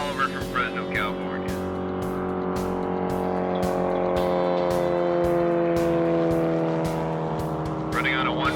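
Land speed race car 1948 running on course 3, its steady loud engine drone with strong harmonic tones holding throughout, sustained near and continuous with no pauses.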